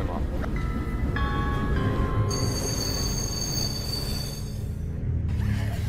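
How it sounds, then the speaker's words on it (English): Train rolling and then coming to a halt, with a constant low rumble of wheels under high metallic squeals and whines that rise and hold, then drop away as it stops. "Okay, the train has stopped"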